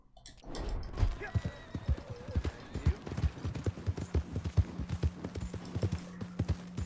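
Horse hooves clip-clop in the video game Red Dead Redemption 2, a steady rhythmic run of close, distinct hoofbeats carrying on throughout.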